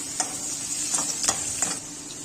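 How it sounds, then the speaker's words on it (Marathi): Vegetables stir-fry on a high flame for Chinese noodles, a bright steady sizzle with several quick scraping stirs close by. "या भाज्या आपण सुरुवातीला हाय फ्लेमवरती 5 मिनिटं असंच भाजून घेणार आहोत."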